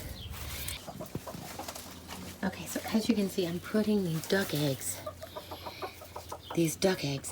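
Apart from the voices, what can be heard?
brown Cornish hen clucking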